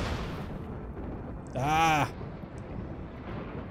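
A single loud thunderclap from a flash storm in the video game RimWorld booms and rumbles for about half a second mid-clip over a low background hiss, while a voice briefly exclaims.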